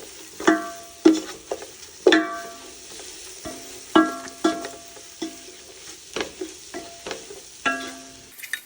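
Chicken curry with turmeric powder stirred in a pan: a series of sharp scraping spoon strokes against the pan, about a dozen uneven hits over a faint background sizzle, close and clear with no talking.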